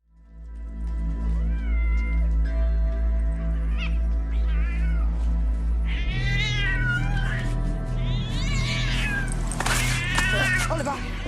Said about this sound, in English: Give me the cat.